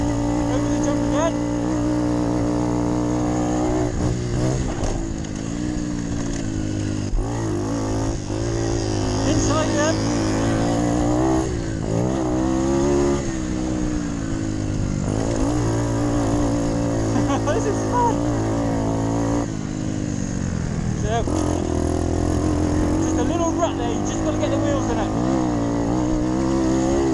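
Moped engine racing flat out during a five-hour enduro, a loud, steady buzzing drone with rising and falling revs that dominates throughout, with a voice talking over it.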